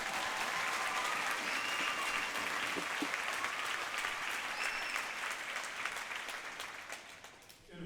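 An audience at a welcome-home event for a college All-American and Big Ten champion breaks into dense, steady applause that fills the room, then gradually tapers off near the end.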